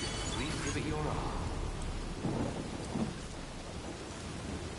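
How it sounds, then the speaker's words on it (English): Steady rain pours with rumbles of thunder rolling underneath in the video game Death Stranding 2, a continuous stormy wash at moderate loudness. "Rain."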